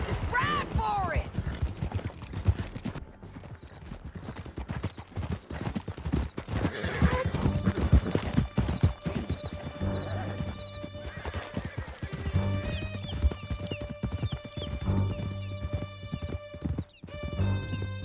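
Horses gallop with rapid clip-clopping hooves and loud neighs in Red Dead Redemption 2, the pounding rhythm running throughout the chase, with shouted voices mixed in over the hoofbeats.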